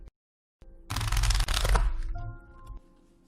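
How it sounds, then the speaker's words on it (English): A deck of tarot cards is shuffled close up in a dense riffling burst lasting about a second, followed by a brief settling clatter and quiet. "I'm going to give it one more shuffle"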